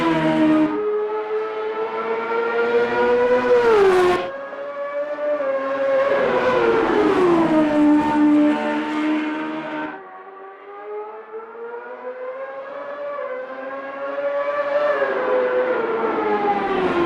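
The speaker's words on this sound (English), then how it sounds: "Just listen to that engine scream, such a beautiful sound." A Champ Car racing engine in Automobilista 2 screams at high revs, pitch rising and falling through gear changes, loud and continuous with a sharp cut between shifts.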